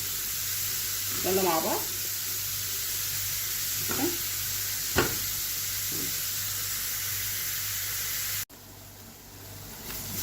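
Onion frying in a pan before minced meat goes in, a steady sizzle running throughout under occasional speech, with brief stirring scrapes.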